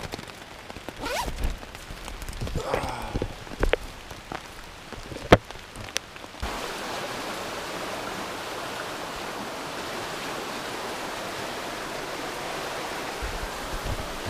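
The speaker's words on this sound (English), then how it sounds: "It rained from 10:30 last night," Steady rain falls outdoors at Turkey Pen Gap, a constant hiss of drops after a few clicks and handling noises at the start.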